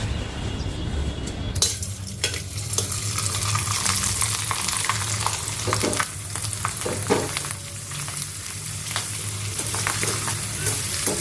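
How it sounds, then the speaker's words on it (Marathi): Sabudana chakli deep-frying in hot oil at home, a steady loud sizzle and crackle running throughout with occasional clinks of a utensil, no voices. "चला आता चकली खाली नेऊन तळून पण दाखवते तुम्हाला"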